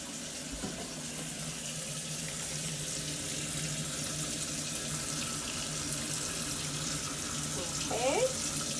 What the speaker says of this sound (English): let's go ahead and wash our hands.